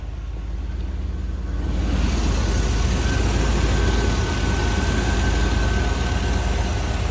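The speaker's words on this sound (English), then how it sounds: "See how smooth the engine runs" A 1981 Chevrolet Corvette Coupe's stock engine idling with the hood open, a steady low rumble with a fine even pulse that grows fuller after a couple of seconds and stays constant.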